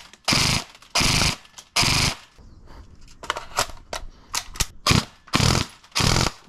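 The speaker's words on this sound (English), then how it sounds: "Let's try some full auto." Airsoft gun firing on full auto: several loud, close bursts of rapid shots, each lasting about half a second, separated by brief pauses, with scattered single clicks and clatter in between.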